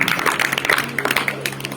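Audience applause at a 15 August Independence Day program in India, a dense patter of many hands clapping steadily throughout, with a faint voice mixed in underneath.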